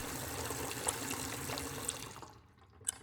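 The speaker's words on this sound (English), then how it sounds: "I made it to the washroom and clicked on the faucet." Water runs steadily from a faucet into a sink set in a marble countertop in a washroom, a close, even rushing that cuts off abruptly partway through.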